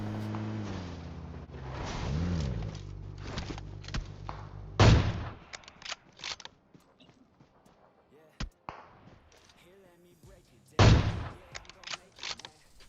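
Gunfire in PUBG Mobile, with two loud separate sharp shots several seconds apart and some softer thuds amid quiet game ambience, preceded by a low engine-like drone.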